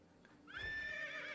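In the video game Albion Online, a horse gives a single loud, drawn-out neigh that rises and then trails off, heard alone over faint background sound.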